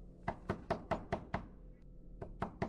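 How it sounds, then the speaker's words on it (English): Repeated knocking in a horror video game set in a house with a basement: a run of six sharp, evenly spaced knocks, a brief pause, then three more, fairly loud and close with no talk. "Why did I hear, like, so much knocking"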